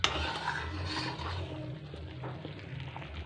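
A spoon works through pav bhaji vegetable mash in a pan, giving soft continuous rubbing and scraping with light clinks of metal, close and steady with no talk.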